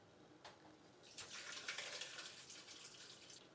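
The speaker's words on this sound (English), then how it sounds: "Now we're ready to strain the juice." Mayhaw juice poured through a strainer while making jelly, a steady splashing trickle of liquid that starts softly and swells into a continuous close pour, with no talking.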